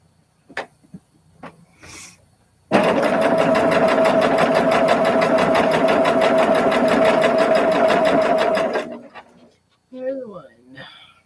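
A sewing machine stitches quilt pieces in a steady, loud, rapid mechanical whir for about six seconds, with a dog panting and whimpering nearby and brief clatter before and after.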